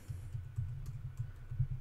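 Typing on a computer keyboard, a steady run of soft, close key clicks with brief pauses, moderately quiet and alone without any talk.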